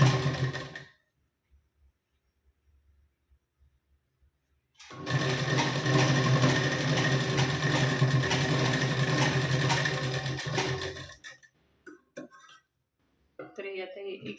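A sewing machine stitches tucks into a blouse, running in one steady, loud burst of about six seconds after a long quiet stretch, with faint sounds of handling at the end.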